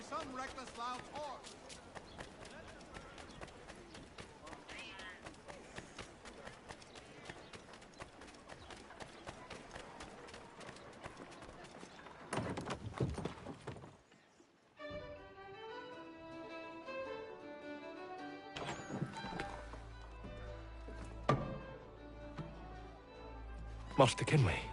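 Horse hooves clip-clop steadily in Assassin's Creed 3 Remastered, a busy rhythmic trotting under game voices and ambience for the first half, then game music takes over with a few louder knocks.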